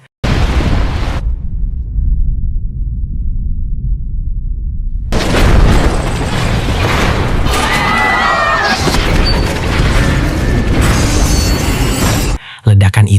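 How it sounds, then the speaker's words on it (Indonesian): A massive explosion blasts open a train gate in a Snowpiercer movie scene, a loud sustained roar and rumble with crashing debris and a break into quiet before erupting again, mixed with film soundtrack. "Ledakan itu terjadi dengan kekuatan masif"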